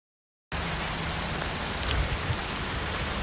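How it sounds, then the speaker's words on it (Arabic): Heavy rain falls in Bukovel, Ukraine, beginning abruptly after a brief silence and then holding as a steady, even hiss of drops hitting surfaces, moderately quiet, with no talking. "ما شاء الله الآن جاء مطر بعد."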